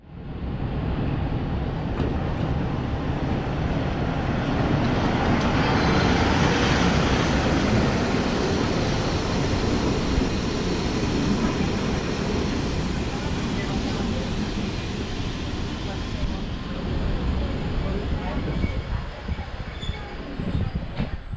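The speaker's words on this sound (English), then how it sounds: "Our first train today isn't a steam train, it's a regular diesel train with a diesel locomotive of type L45H from Romania." A Romanian L45H diesel locomotive hauls a train into a station on the Zittau narrow gauge railway, its broad engine rumble and rolling noise swelling steadily and staying loud as it draws near.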